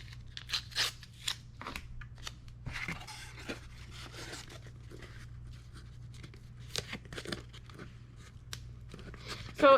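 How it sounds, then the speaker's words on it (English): Tape is pulled and torn in short bursts while assembling a fanny pack, crisp ripping and crinkling sounds scattered against a steady low hum in a quiet room. "I'm going to use some tape."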